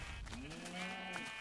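A sheep in the video game Minecraft gives a single drawn-out wavering bleat, clear and fairly close, over quiet background with no talking.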